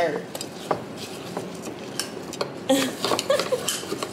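A rice water hair treatment stirred in a container: close clinking and scraping of a utensil against the vessel in irregular bursts, growing busier toward the end, no clear voices.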